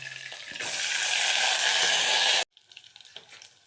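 Eggplant hits hot oil with tempered mustard seeds, producing a bright, steady close sizzle for about two seconds that cuts off abruptly, followed by faint stirring and clatter.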